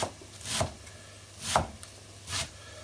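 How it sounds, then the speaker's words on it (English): Coriander stalks are finely chopped with a knife on a board for enchiladas, three soft separate thuds at a slow pace, near and fairly quiet with no talk. "I'm going to chop a little bit of my coriander stalks"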